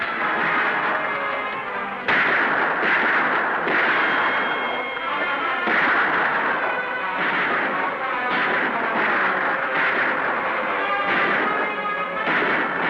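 Gunfire in a western TV show set in a fight with Indians, sounding as a loud, dense, continuous barrage of overlapping shots mixed with dramatic soundtrack, steady throughout without letup.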